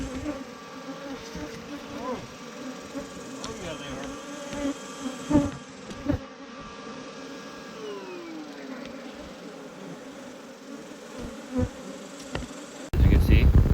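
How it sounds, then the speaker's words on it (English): Honeybees swarming out of a hay baler, a dense continuous buzzing of many insects close by, with passing individual bees whining near and an engine-like drone joining at the very end. "We took the bees, this happened, and then they came out fighting."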